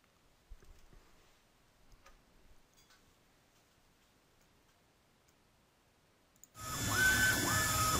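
A large flatbed printer producing a 4x8 ADA stair sign with all colour channels firing at once starts up after faint ticking, then runs as a loud, steady whirring hum.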